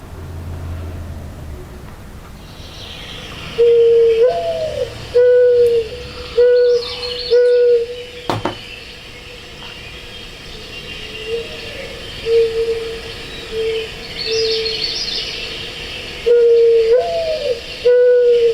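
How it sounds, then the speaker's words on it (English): A mourning dove gives its low, soft cooing notes in repeated phrases, carried over a steady background hum with faint higher chirps from other birds. "So if you guessed the mourning dove, you are correct."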